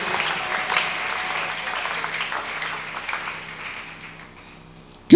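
A church congregation applauds, a dense wash of clapping that gradually fades, then a sudden loud burst at the very end.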